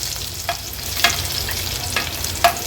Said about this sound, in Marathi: ह्या लसणाच्या पाकळ्या आपण फोडणीवर घालणार आहोत